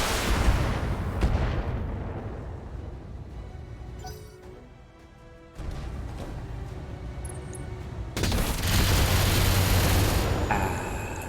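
Mech weapons firing at a Blackjack mech in a Battletech 3062 battle, heavy booming volleys with crackling impacts, a quieter lull in the middle, then a louder sustained burst of fire near the end.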